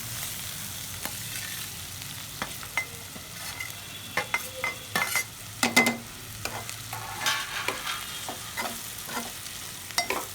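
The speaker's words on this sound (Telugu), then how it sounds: "నేను ఇప్పుడు మసాలా వేసేసుకుంటున్నాను." Masala stirred into cluster bean (chammakaya) curry frying in a pan: a soft continuous sizzle broken by repeated scraping stirs that grow busier and louder midway.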